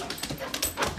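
Excited pet dog named Joy whimpering and panting close by at home, short whiny yelps over quick breaths in a brief burst, with no talking.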